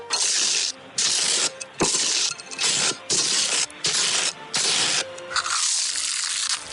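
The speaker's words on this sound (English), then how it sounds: "do you mean like a money counter at the bank?" A banknote counting machine makes a rapid mechanical whirring of notes flicking through, running in repeated bursts of about a second each with brief pauses between.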